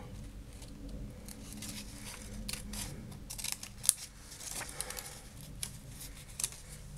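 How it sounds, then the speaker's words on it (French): Scissors snip a small paper sentiment for a scrapbook mini shaker embellishment, giving soft, quiet cuts with a few sharper clicks over a faint background hiss. "je coupe mon petit sentiment"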